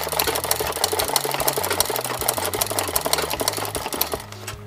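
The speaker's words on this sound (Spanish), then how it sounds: "ahí en la máquina y la máquina sola trabaja" An embroidery machine stitches a design onto pants by itself, making a steady, fast mechanical chatter with a rhythmic hum underneath that runs close and continuous and eases slightly at the very end.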